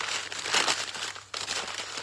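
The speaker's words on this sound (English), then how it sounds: "Just crumple this up" Sheets of packing paper are crumpled by hand, a continuous close crinkling and rustling with one brief pause before the scrunching resumes, with no voices.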